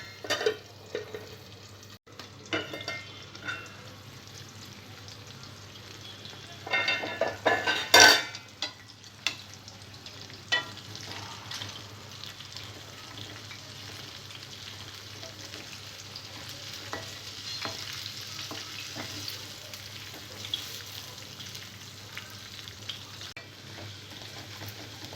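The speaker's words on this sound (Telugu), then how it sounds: "వంకాయలు వేసిన తర్వాత మూత పెట్టి సిమ్లో ఈ వంకాయలను బాగా ఫ్రై కానివ్వాలి" Brinjals fry in a covered pan on low flame, a steady soft sizzle running throughout, with a cluster of louder clinks and stirring clatter early on, then quieter crackling alone.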